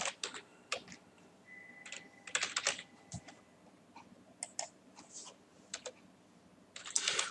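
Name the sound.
typing on a computer keyboard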